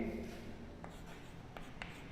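Pen writing an answer by hand in a classroom lesson, a soft continuous scratching with a few brief strokes standing out, close and fairly faint, with low room tone beneath.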